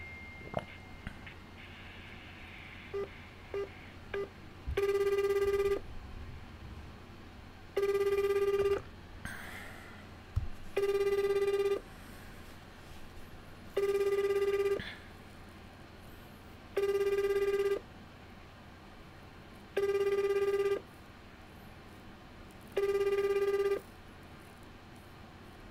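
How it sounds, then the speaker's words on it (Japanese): A telephone call goes unanswered: seven evenly spaced ringback tones, each about a second long, repeat every three seconds or so, loud and clear over a quiet room. "ただいま電話を呼び出しております。"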